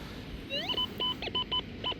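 A faint metal detector passing over a piece of soda can in sand gives a string of short, high-pitched beeps in an uneven rhythm.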